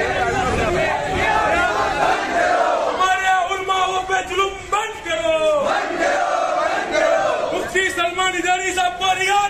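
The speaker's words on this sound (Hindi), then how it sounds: "किस कदर भीड़ है।" A large protest crowd in Gujarat chants for the release of Mufti Salman Azhari. The loud, rhythmic massed voices swell and rise in waves, with shouted cries and general crowd noise all through.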